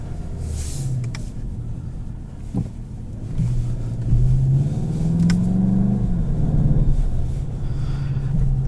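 A 2021 Volkswagen Jetta GLI with a DSG gearbox in manual mode on the autobahn: a steady engine drone climbs in pitch and steps through quick gear changes, with a rumbling road noise underneath.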